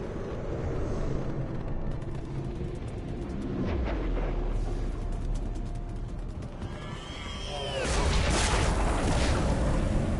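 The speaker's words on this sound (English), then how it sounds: "Explosions. That was a little closer than I'd like." Explosions in Mass Effect 3 battle scenes: a rolling, rumbling blast around four seconds in, followed by a bigger, louder crash near eight seconds, with whooshing debris amid continuous combat din.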